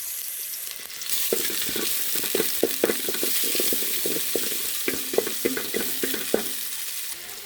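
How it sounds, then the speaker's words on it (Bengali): Onions frying in oil for biryani, a steady sizzle with repeated stirring clicks and scrapes of the spoon against the pan throughout, close and fairly loud. "দিয়ে দিলাম তেল, দিয়ে দিলাম পেঁয়াজ"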